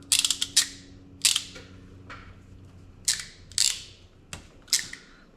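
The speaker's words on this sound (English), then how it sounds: "What we're going to do is we're going to cut this back, expose some of the copper core." Cutting back 7mm solid copper spark plug wire, heard as a series of sharp close snips and clicks in irregular clusters with quiet pauses between them.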